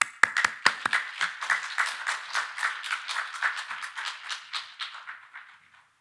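A church congregation claps to welcome a preacher to the pulpit. Dozens of quick, sharp claps start strong and close by, loosen into a ragged patter, then thin out and stop.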